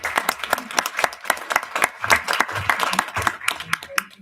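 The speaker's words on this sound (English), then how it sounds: "A round of applause" Applause in a school board meeting room, a modest group clapping unevenly with distinct separate hand claps, close and fairly loud, with a few voices murmuring underneath.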